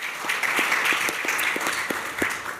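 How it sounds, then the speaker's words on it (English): A conference audience gives a short round of applause for two panel speakers, a steady wash of many hands clapping at moderate distance with no talking over it. "just a round of applause for those two as well"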